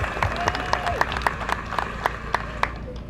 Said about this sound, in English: big round of applause for our care managers